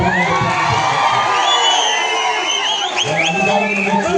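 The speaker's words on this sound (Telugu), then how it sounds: "తమ్ముడు శ్రీనివాస్ రెడ్డి గట్టిగా చప్పట్లతో" A crowd at a political rally in Warangal cheers and whoops loudly and continuously, with shouted voices rising through the dense roar of the gathering.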